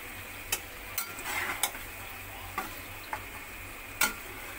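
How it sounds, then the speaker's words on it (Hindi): Beef karahi frying in a pan, a soft, continuous sizzle punctuated by about seven distinct clinks and scrapes of a utensil against the metal, close up and quiet with no voices. "अब मैं इसको जरा फ्राई कर लूं"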